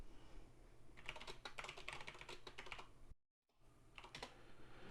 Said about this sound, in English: That's my lovely keyboard making noise.